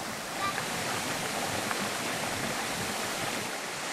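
A waterfall on a Bolivian mountain, a steady rushing roar of falling water at a constant, moderate level with no clear pauses. Faint sounds of children at play may come through under it.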